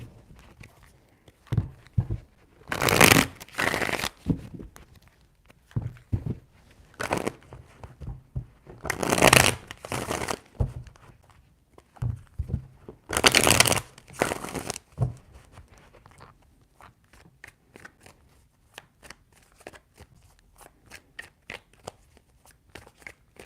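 Tarot cards being shuffled by hand nearby in three loud riffling bursts, separated by quieter stretches of soft card handling, tapping and rustling.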